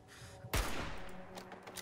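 A sharp burst of gunfire in Fallout 4 cracks out loudly, then trails into a rattling echo with a couple of smaller follow-up pops.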